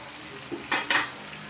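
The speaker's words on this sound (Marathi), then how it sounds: "हळद टाकून वांग हलवून घेतलं." A spoon scrapes through eggplant with turmeric in a hot pan: two quick, close stirring strokes with a light sizzle, then quiet.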